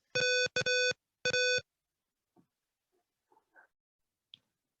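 Three sharp electronic alarm beeps from a simulated password-based lock system, the first two close together and the third after a short pause, followed by faint clicks and near silence.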